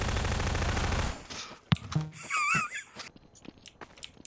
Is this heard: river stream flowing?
no